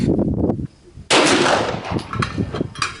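A 9mm Glock 34 pistol fires two sharp, loud shots about half a second apart, each with a booming report and a short echoing tail outdoors.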